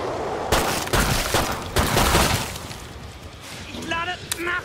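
Dense rapid gunfire in Killing Floor 2, loud close bursts of shots rattling in waves with brief lulls, followed by a voice shouting near the end.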